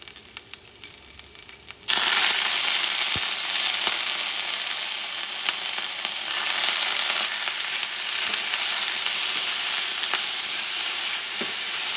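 Cabbage for a Madrid chickpea stew, seasoned with smoked paprika, hits a hot pan and breaks into a loud, steady, crackling sizzle that carries on without a break after a quieter start.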